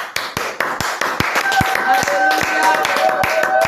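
A church congregation claps in acclaim, a steady rhythmic beat of sharp hand claps repeated about every quarter second, with singing voices sustained underneath.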